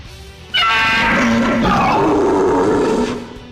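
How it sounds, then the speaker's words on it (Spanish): A monster lets out a deep, loud roar with a growling edge. It bursts in suddenly, holds for about two and a half seconds, then fades away. "los sonidos de su rugido ominoso penetraron"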